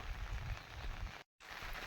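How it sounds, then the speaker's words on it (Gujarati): Steady soft hiss of light rain falling, continuous and even, with a brief dropout near the end before the patter resumes. "તો અત્યારે વરસાદે જો ચાલુ કર્યું છે ઝીણું ઝીણું ઝીણું ઝીણું"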